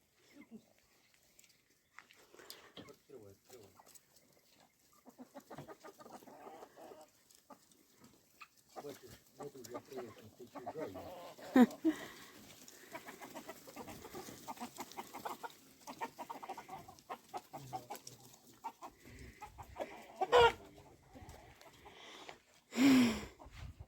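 Chickens cluck intermittently in a farmyard during 42°C heat while people talk and call to them nearby, with a few louder bursts of activity.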